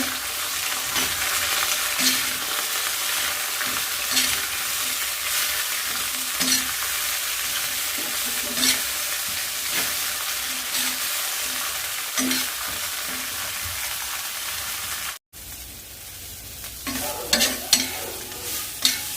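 Bitter gourd sautés in oil with rock salt, a steady close sizzle punctuated by regular spoon-stirring scrapes about every two seconds, briefly cutting out near the end before louder clattering stirs resume, with no speech.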